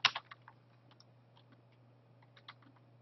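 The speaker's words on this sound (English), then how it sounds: "So I type the apostrophe" Typing on a computer keyboard while writing Visual Basic code: a quick cluster of close, crisp key clicks at the start, then scattered single taps and a short burst near the end over a steady low hum.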